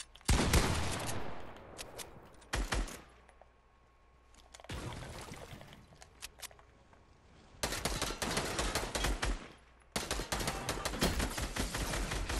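Assault rifle fire in Fortnite comes in several loud, rapid bursts separated by short quiet gaps, with the final two stretches of shooting running longer and more continuous.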